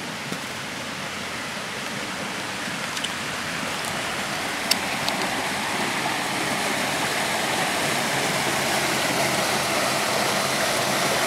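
Waterfall at Twin Falls above Pickens, South Carolina, a steady broadband roar of rushing water, close and continuous throughout with no voices.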